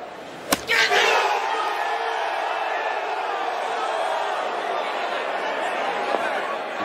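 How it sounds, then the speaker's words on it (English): Golf tournament gallery roaring after a shot by Scottie Scheffler, a sharp strike followed by a swelling, sustained crowd cheer heard at a distance under a commentator's voice. "Listen to that crowd."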